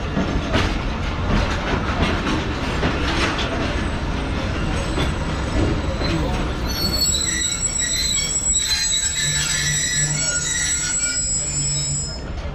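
A Karakoram Express train passes close by on a Pakistani line, its wheels squealing loudly and steadily over continuous rumbling and rattling, with high metallic screeches rising in the second half.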